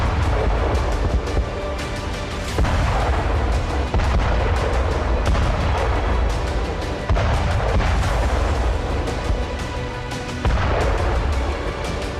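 Soviet Tsar Bomba hydrogen bomb test of 1961 at Novaya Zemlya, dropped from a Tu-95 bomber: a loud, continuous deep roaring rumble that fills the whole stretch, with heavier surges breaking through every few seconds.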